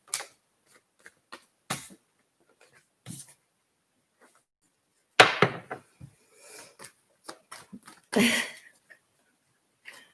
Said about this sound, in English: Just a few more shuffles